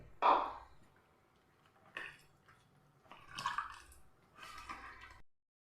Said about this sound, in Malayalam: വെള്ളം കൂടെ ഒഴിക്കുന്നുണ്ട്